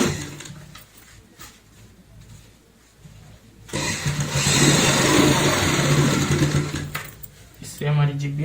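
Sewing machine running a topstitch along a shopping bag made from an old shirt, a quiet stretch giving way to a louder steady mechanical whir that holds for several seconds, then a brief pause and a restart.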